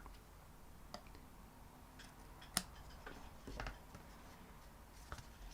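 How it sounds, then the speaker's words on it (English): Scissors trim excess paper while making a card, giving a few faint, scattered snips and light ticks in a quiet room. "And then just trim off the excess."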